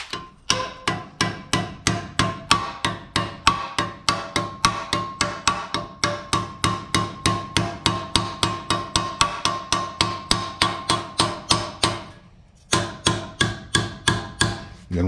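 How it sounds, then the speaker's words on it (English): A ball peen hammer strikes a metal Texas star in a fast, steady series of loud, ringing metallic blows, about three per second, with one short pause near the end before the hammering resumes. "So we just got my trusty ball peen."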